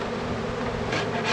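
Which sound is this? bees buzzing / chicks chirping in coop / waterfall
bees buzzing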